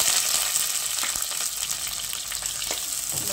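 Chopped onions and curry leaves sauté in hot oil for a dry fish thokku, giving a steady, close, continuous sizzle with no voices.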